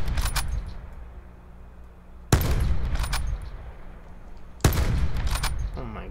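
Call of Duty: Blackout gunfire comes as a few sharp, loud shot bursts, each with a sudden attack and a trailing rumble, spaced a couple of seconds apart over a low game backdrop.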